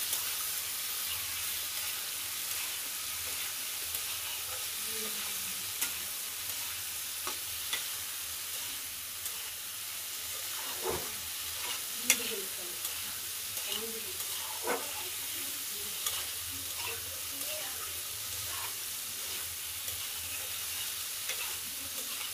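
Boiled ash gourd being stir-fried in a pan, a low steady sizzle with soft scraping and stirring knocks scattered throughout, fairly quiet and continuous with no talking.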